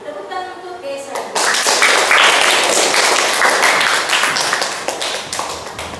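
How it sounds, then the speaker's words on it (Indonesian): Classroom of students clapping together for a classmate, starting abruptly after a teacher's voice and continuing as brisk, fairly loud group applause that slowly tapers. "tepuk tangan untuk guys, Sani"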